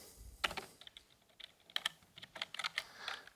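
Computer keyboard typing at a launch event demo, irregular bursts of sharp clicky keystrokes with short pauses between, close and moderately loud.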